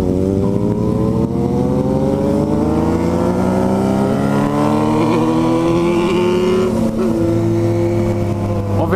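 Yamaha MT-09 motorcycle engine accelerating in a rising rev sweep through a gear on a test ride, loud and close, with steady wind rush and no talk.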